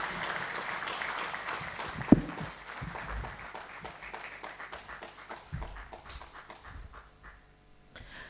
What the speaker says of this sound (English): Let's give her another warm round of applause.